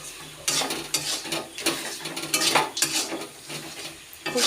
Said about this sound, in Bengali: এবার মশলাটা দিয়ে নাড়াচাড়া করছি।